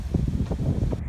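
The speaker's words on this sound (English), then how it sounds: "It's pretty windy." Wind buffets the microphone outdoors at a hayfield in low, gusty rumbles over a brief moment, with no talk.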